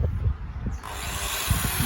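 An electric drill running on a solar cell power system, a steady whirring hum that holds for a couple of seconds, fairly quiet and close, with no talking.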